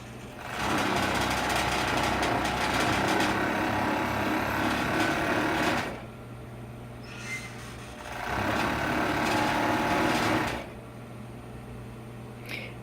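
Serger sewing machine stitching fabric in a home sewing studio, running in two long bursts of fast, even whirring with a short pause between them, close and clear with no talk.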